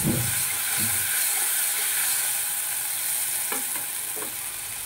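Mustard paste mixed with a little water sizzles and fries in a pan for a Bengali spiced fish dish, with a steady broad hiss and a few soft scraping stirs of the spoon throughout.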